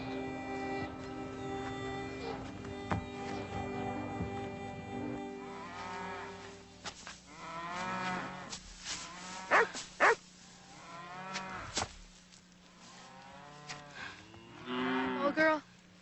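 Cows on a farm moo repeatedly, several long drawn-out calls spaced across the scene, some near and loud, over a low steady background hum.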